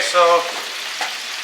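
A roux for buttermilk fried chicken gravy sizzles steadily in a pan, a close, continuous frying hiss with a brief spoken phrase at the start.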